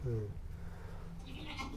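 Barbari goat bleating on a goat farm in India, one wavering bleat near the start, followed by background farm noise and a faint higher cry later, with people talking throughout.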